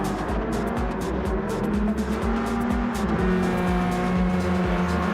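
Radical race cars lapping a track in Gran Turismo 7, engines droning and rising and falling through gear changes with repeated sharp upshift pops, loud and close, the high revving roar continuous without voices.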